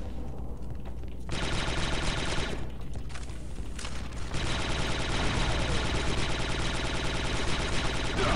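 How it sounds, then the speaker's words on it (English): Dense, rapid gunfire rattles almost continuously in a Star Wars: Republic Commando 5v5 multiplayer match on the Kachiro map, loud and close, with a brief thinning near the start before the automatic bursts resume. "Crap, I just killed my teammate. I shot."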